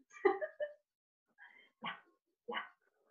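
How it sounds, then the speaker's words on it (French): A dog gives several short barks and yips with whimpering tones in between, close and fairly quiet, arriving as separate bursts with brief pauses. "C'est le chien."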